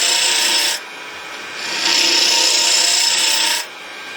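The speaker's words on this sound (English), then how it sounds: "see how we're just holding the gouge and coming out slow" Wood-turning gouge cutting a hollow lid on a spinning lathe, a steady, close rasping hiss that shifts in loudness as the tool is drawn slowly outward, with no speech.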